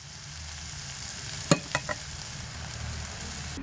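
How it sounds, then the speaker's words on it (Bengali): Chital fish stems fry and sizzle steadily in a pan while a spoon stirs, with a few sharp scraping clacks against the metal. "এবার আমি এটাকে নাড়াচাড়া করে একটু নামিয়ে নিচ্ছি"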